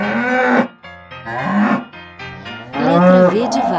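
A farm cow moos three times in long, drawn-out bellows separated by short pauses, loud and near, alone without speech.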